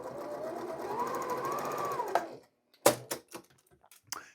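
A sewing machine stitches quilt fabric in a steady, close whirring run that stops abruptly, followed by a few sharp ticks and clicks of the mechanism.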